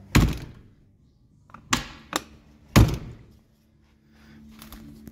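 Door of a Freightliner FLD120 truck fitted with a new latch, shutting with four solid thunks and a softer click in between, close and loud over a quiet background.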